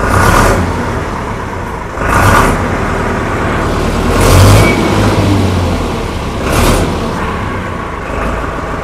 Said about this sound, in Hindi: कड़क मतलब क्लासिक साउंड वो बहुत मस्त है ट्रैक्टर का